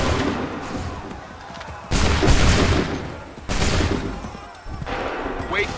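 Musket volleys crack out in Assassin's Creed 3, three heavy bursts of massed gunfire each rolling into a long echoing decay, loud and close against a rumbling battlefield bed.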